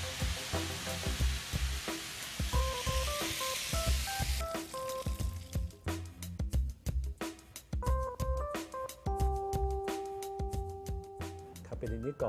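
Capellini frying in a pan of hot oil at about 180 degrees, a dense sizzle that fades partway through, with clinks and cooking noises and someone talking over it.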